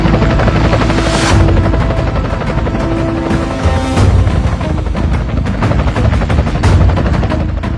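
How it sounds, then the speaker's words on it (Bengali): A helicopter thunders close by with loud, continuous rotor chop and rhythmic pulsing blade beats throughout, with no speech. "এলাকায় হেলিকপ্টার কে নিয়ে আসলো?"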